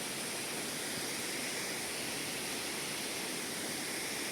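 Waterfall near Munnar and Anachal in India, a constant dense roar of rushing water, loud and unbroken throughout with no voices.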